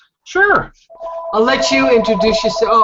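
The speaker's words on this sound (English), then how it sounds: "I was afraid that was my phone going" A telephone rings and trills during a meeting, a clear electronic ringtone running under and between people talking.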